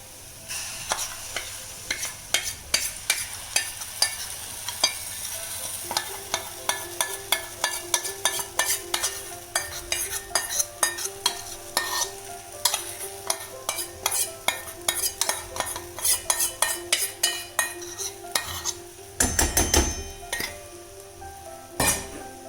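Besan (gram flour) mixture for zunka, a North Karnataka dish, being stirred as it fries in a pan, with a steady run of spoon clinks and scrapes against the metal over a continuous sizzle, close and fairly loud, with no voices.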